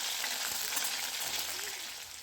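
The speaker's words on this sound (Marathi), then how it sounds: "वांगी तळताना गॅसची फ्लेम हाय ठेवायची आहे" Steady, dense sizzling of eggplant frying in hot oil over a high gas flame, continuous and close, with no talking.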